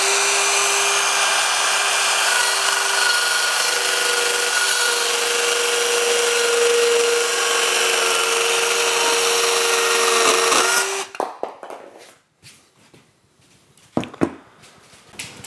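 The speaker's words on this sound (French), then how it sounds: "une petite lame PVC, on a besoin de refaire une coupe dans un angle. Et cette fois-ci, on va faire ça à main levée" A Bosch GKS 12V-26 cordless circular saw with a small PVC blade cuts freehand through PVC, whining steadily and loudly for about ten seconds before spinning down, followed by scattered clatter and handling noises.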